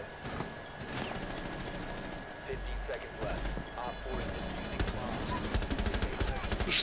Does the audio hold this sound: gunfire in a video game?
yes